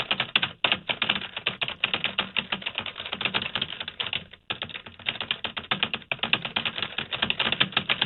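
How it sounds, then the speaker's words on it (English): Rapid typing on a computer keyboard, a steady dense run of close, crisp key clicks with a couple of brief pauses, heard alone. "What are you typing?"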